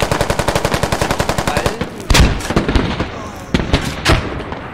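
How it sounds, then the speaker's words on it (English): Rapid, evenly spaced loud shots in the Squad military shooter, followed by heavier booming blasts of a tank cannon, with a voice talking briefly between the bursts. "They're not mortaring, it's the tank shooting it."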